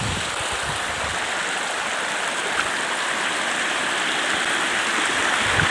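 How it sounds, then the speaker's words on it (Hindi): Steady rushing water from a hill stream near Dehradun, a dense continuous roar like a fast torrent, loud and close with no pauses. "भयंकर पानी आ रहा है।"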